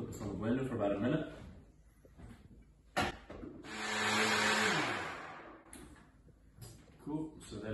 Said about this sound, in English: I'll just put this on the blender for about a minute.